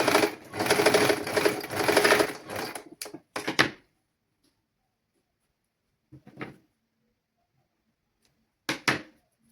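A sewing machine stitches a frock, running in a loud, rapid burst for a few seconds, then a couple of shorter close stitching bursts separated by silence, with no talking.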